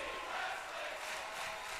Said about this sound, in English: This crowd is chanting tag team wrestling